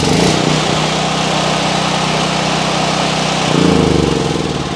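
A push-button-started portable generator engine runs loud and steady right up close, a continuous buzzing drone that shifts and swells slightly near the end.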